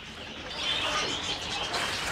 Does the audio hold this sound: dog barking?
no